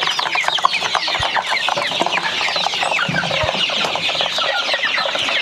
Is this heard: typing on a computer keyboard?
no